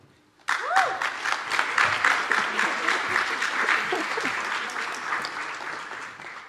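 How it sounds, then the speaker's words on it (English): Students cheer and applaud at a Martin Luther King Jr. celebration in a Baptist church, a sudden burst of dense clapping with whoops and shouts that carries on steadily and fades slightly toward the end. "I do appreciate how the students cheer for each other and recognize each other."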